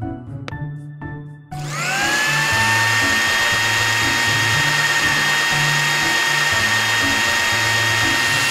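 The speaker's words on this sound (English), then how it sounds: "Puree them in a blender to get the juices." A blender whirs to full speed pureeing diced watermelon, carrot, mango and avocado, a loud steady motor whine after a few short pulses, running continuously to the end.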